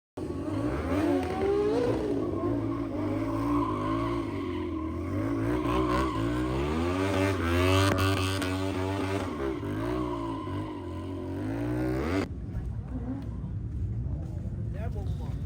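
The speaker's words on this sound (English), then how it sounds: "Seeing as the Chinese motorcycle industry is booming, so is the stunt riders, and this is one of their competitions." Stunt riders' motorcycles at a stunt competition during the Chongqing International Motorcycle Show in China: engines rev and rise in pitch continuously, loud and close, then cut off abruptly near the end.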